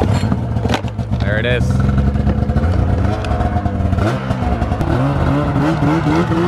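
Snowmobile engine fired up and revved near the microphone, a rough, loud motor rising and falling in pitch over several throttle blips, with people talking over it.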